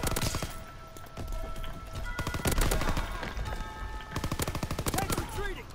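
Gunfire in the Call of Duty video game, with rapid bursts of shots mixed into a busy battle soundscape and heard under shouted talk throughout.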